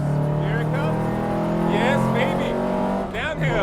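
A Porsche 356 with drum brakes accelerates hard in second gear downhill on a race track, its engine note droning loud and steady from inside the car while a driver talks excitedly over it.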